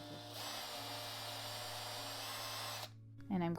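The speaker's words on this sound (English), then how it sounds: "we're going to create a pilot hole here with a drill bit which is 7/64" A power drill with a 7/64 bit bores a pilot hole while making an ear-wire forming tool, a steady close whine running for about two and a half seconds before cutting off, followed by a brief voice.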